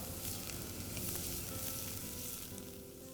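Garlic and onions sautéing in a pan for a Bengali prawn malai curry make a soft, steady sizzle that stays fairly quiet and even throughout, with no voices.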